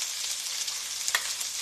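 Chicken thigh croquette mixture with chives and cream cheese is stirred briskly in a bowl, giving a soft, wet, close scraping and squelching with a few sharper clicks, and no talk.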